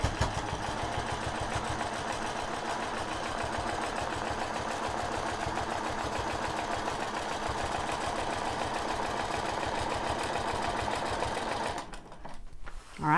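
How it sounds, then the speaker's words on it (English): Sewing machine stitching a square spiral quilt from point to point, a steady rapid mechanical whir with a fast needle rhythm running continuously close by, then stopping near the end with a brief rustle. "I'm just going to stitch from point to point"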